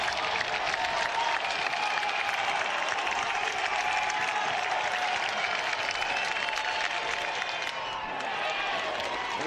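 A college baseball crowd, South Carolina against NC State, rising in a steady roar of cheering and applause that holds for the full stretch and dips slightly near the end.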